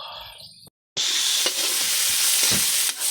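Milkfish (bangus) frying in a pan of oil, a loud continuous sizzle and crackle heard up close, briefly cut by a moment of silence before resuming with stirring scrapes.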